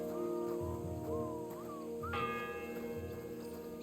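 A church bell tolls in the medieval game Kingdom Come: Deliverance II, a single ringing strike with a long sustained hum that carries on, heard over steady ambient tones and faint background game sounds.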